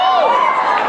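A convention panel audience gives a brief polite cheer, a soft blended wash of crowd voices that sounds fairly close and steady for under a second.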